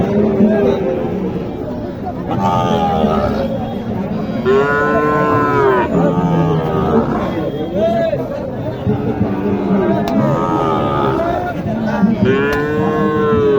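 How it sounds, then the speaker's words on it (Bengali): A Sahiwal cow moos loudly several times at a crowded cattle market, long drawn calls under steady crowd chatter and nearby talking. "এখানে একটি শাহিওয়াল গরু দেখছি।"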